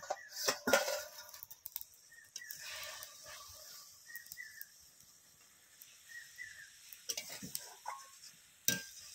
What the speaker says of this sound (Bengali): পরে ঢাকনাটা খুলে নিচ্ছি